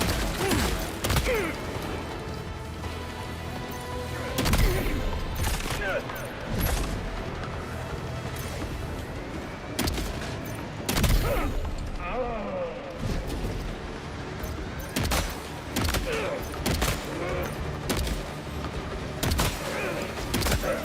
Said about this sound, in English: the upgraded shotgun is really useful